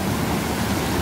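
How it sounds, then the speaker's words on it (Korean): A waterfall in Korea's Hwaaksan valley pours out a steady, dense rushing roar, close and unbroken throughout with no voices. "오, 이렇게 폭포예요, 폭포."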